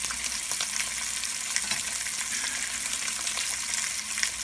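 Oxtail pieces brown in a pot of hot oil, giving a dense, constant close sizzle and crackle with faint stirring and turning noises. No one talks.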